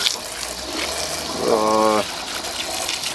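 Water gushes from a hose or tap to rinse mud off, a brief loud splash and rush in the middle of the clip over outdoor background noise, with a voice nearby.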